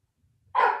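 A single sharp dog bark close to the microphone comes out of near silence and cuts off quickly.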